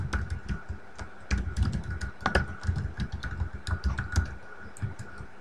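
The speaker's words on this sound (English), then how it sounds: "you can type in the email address of the person you want to send this to" Quick, irregular keystrokes on a computer keyboard as an email address is entered, close and clear, with short bursts of clicking and small pauses.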